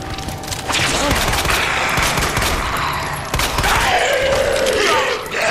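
Grenade launcher blasts in the Resident Evil 2 Remake lab area, a dense burst of gunfire and explosions with crackling debris, loud and close, with voices talking over it.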